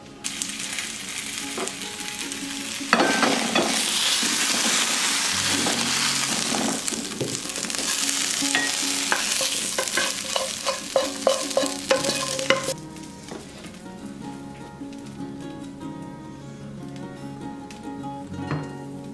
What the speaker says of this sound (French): Je vais faire revenir quelques minutes les pommes de terre avec les condiments.